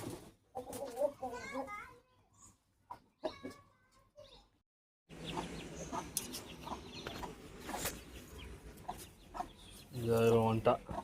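Chickens and guinea fowl cluck and squawk as they come back into the coop on a hot, sunny day, the birds heard intermittently under people talking close by.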